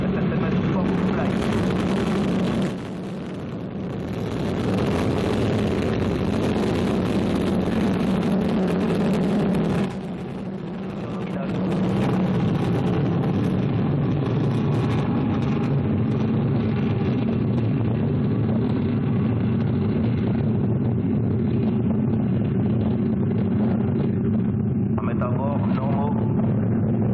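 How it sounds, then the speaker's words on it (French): Vega VV16 rocket with its P80 first stage igniting and lifting off, a sustained low rumbling roar that persists throughout with a brief dip before building again, while commentators talk over it. "Allumage P80. Allumage P80, décollage."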